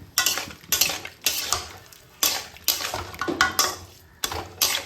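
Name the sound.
pointed gourd, potatoes and prawns added to pan and stirred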